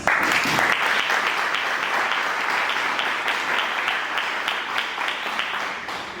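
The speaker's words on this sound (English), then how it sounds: "You get a round of applause after just your introductions." An audience gives a round of applause for a student panel at a retreat, loud and close at first, then gradually easing off over about six seconds.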